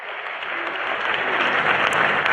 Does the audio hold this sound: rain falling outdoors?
no